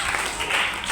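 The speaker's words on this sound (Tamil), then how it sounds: "பாஸ்டர் அம்மாவுக்காக, எங்க சர்ச்சில் வந்திருக்கிறவங்களுக்காக ஒரு கைத்தட்டு கொடுத்துருவோமா?" A brief, dense wash of clapping from a church audience at a Christmas children's program, loud and continuous throughout the short moment.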